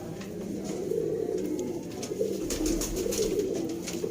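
Sialkoti pigeons coo in a low, continuous murmur that stays steady and fairly close, with no voices on top of it.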